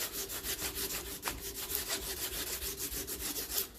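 A hand tap cuts a thread in a part for a 1954 Ferguson TEF 20 diesel tractor, giving a steady back-and-forth rasping scrape in quick, even strokes close by, with no talk.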